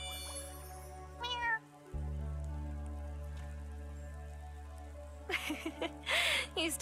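A cat meows twice in the farming game Wylde Flowers, a short cry early and a louder burst of meows near the end, over a steady low hum and soft rain.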